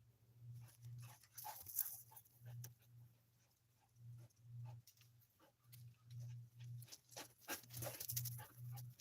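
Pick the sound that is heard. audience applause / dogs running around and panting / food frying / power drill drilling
dogs running around and panting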